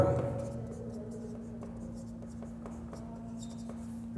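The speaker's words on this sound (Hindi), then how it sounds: "अब इसको लिख लेते हैं" Chalk or marker scratching on a board during a lecture, faint irregular short strokes over a steady low hum, with someone speaking briefly at the start.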